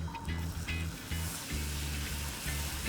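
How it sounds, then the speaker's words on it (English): Steady, close sizzling and crackling of spiced beans frying in a hot pan, with a low background hum running throughout. "you're going to have a nice bit of sizzle"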